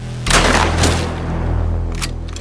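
Rapid bursts of gunfire at a shooting practice range, a dense loud volley running almost continuously through the clip with a short sharper burst near the end.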